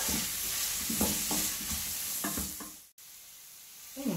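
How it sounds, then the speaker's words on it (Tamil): Garam masala spice mix being sautéed in a cooker pan for egg biryani, a steady sizzle with several scraping stir strokes and a brief cut of silence, close and quiet, no voices. "இந்த மசாலாவோட பச்சை வாசனையெல்லாம் போகிறது வரைக்கும் லைட்டாக வதக்கி விட்டுக்கோங்க."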